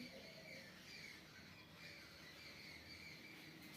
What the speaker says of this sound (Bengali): দেখুন কত পাখি ডাকছে